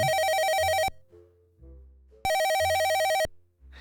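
A video game telephone rings in an electronic bell tone inside a detective's apartment, two loud one-second bursts separated by a short pause, with faint background tones between rings.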